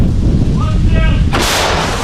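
A self-propelled howitzer fires in combat: a loud, deep artillery blast roars out, followed by a sharp burst of high, hissing noise as the shot rips away, with rumbling continuing throughout.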